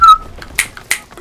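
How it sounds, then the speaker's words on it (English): A short, clear whistled tone from a character in the video game Call of Duty: WWII, heard alone and fading quickly, followed by two sharp broadband bursts. "I thought he whistled."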